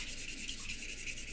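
Hand sanding of titanium knife scales, a steady continuous abrasive rubbing heard up close with no talk.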